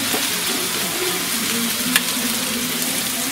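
Meat with seasoning and yuca sizzles steadily on a hot griddle, a constant loud crackling hiss with a single brief clink partway through and no talking.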